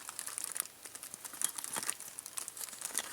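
Dense, fine crinkling and rustling of plastic packaging from a eurorack LFO kit of pin headers and cables being handled, close and fairly quiet, with irregular small bursts and no speech.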